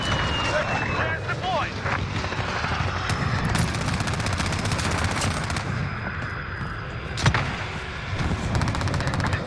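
Rapid gunfire and helicopter rotor noise from Call of Duty Modern Warfare rumble continuously in a dense battle mix, with scattered sharp shots and people talking over the top.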